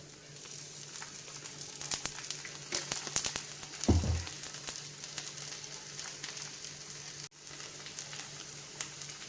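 A mudakathan keerai dosa flavored with cumin and pepper sizzles quietly on a hot griddle. A brief louder crackle rises midway as sesame oil is poured around the edge, then a soft, steady hiss continues.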